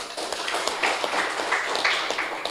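Audience applause for NU at an Indonesian talk, a dense steady patter of many hands clapping at moderate distance, continuous through the moment with no voices on top.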